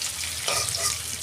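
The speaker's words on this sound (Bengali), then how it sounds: "ওই তেলে আমি কপিটা ভেজে নেব।" Cauliflower pieces fry in hot oil for a home-style cauliflower and potato dish, giving a steady, soft, even sizzle with no pauses or talk.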